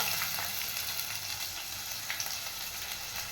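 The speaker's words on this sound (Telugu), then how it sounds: "అదిగోండి ఆయిల్ వేడెక్కింది. ఉల్లిపాయలు, పచ్చిమిరపకాయలు వేసేసాను." Chopped onions and green chillies fry in hot oil, giving a close, bright, continuous hiss and crackle with faint stirring under it.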